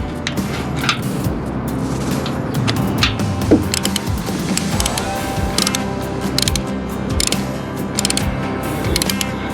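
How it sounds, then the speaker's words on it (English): A socket ratchet snugs down a new oil filter on a Harley-Davidson touring motorcycle, giving loud, close rapid clicking bursts with short pauses between strokes. "I'm going to put a little tension on it using the socket"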